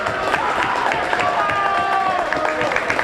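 A vocal home crowd at a boys' varsity high school basketball game against Peabody cheers and claps in a loud, steady gym roar that carries a layer of indistinct voices throughout.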